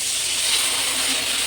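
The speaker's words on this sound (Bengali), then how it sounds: "আর এবার আমি গুঁড়ো মশলাটাও দিয়ে দেবো" Ground spices tipped into hot oil with tomatoes, giving a steady, loud, close hiss of sizzling that holds evenly throughout with no pauses.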